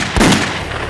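A single loud, sharp bang of a gunshot sound effect in a horror story narration, close and forceful, with a brief boomy tail that fades over a second and no voice over it.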